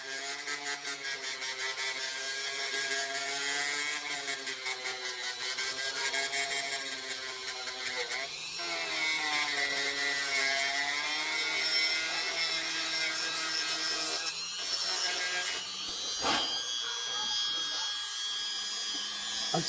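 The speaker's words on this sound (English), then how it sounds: "Got a sanding bit, I guess you'd call it, on the Dremel. And all we want to do is just kind of take off that top" A Dremel rotary tool with a sanding bit grinds steadily on a tractor cab part before painting. The high whine holds close and loud throughout and shifts in pitch as the bit bites in and eases off.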